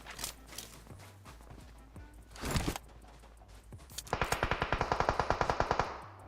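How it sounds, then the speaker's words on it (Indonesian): Gunfire in PUBG Mobile: scattered shots early on, then a rapid, evenly spaced automatic burst of a dozen or more loud cracks near the end, with no talk over it. "Dia nembak kita kan?"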